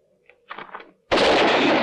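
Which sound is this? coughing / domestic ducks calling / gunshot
gunshot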